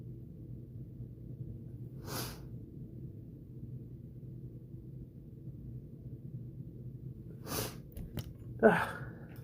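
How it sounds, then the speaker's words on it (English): A person sniffling, with two or three quick, faint nasal sniffs over a quiet low background hum. "In turn makes me start sniffling"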